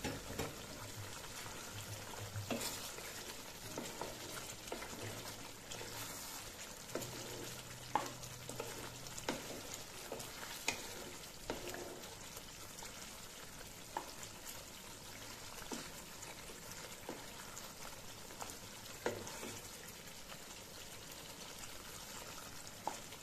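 Roast with a slit green chilli being stirred and fried in oil, a steady sizzle with scraping spoon strokes and occasional clinks throughout, moderately close.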